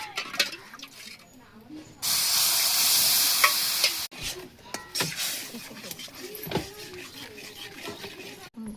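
Milk is poured into hot melted sugar caramel, which sets off a sudden loud hiss that lasts about two seconds. Stirring and a softer sizzle follow, and a person speaks now and then.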